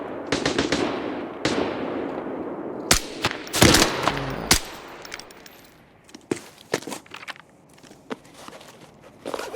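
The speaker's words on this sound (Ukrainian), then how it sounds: "Три постріли і готовий." Sharp gunshots in the video game Arena Breakout Infinite crack out in irregular bursts, some in quick succession like automatic fire, with quieter shuffling and clicks in between.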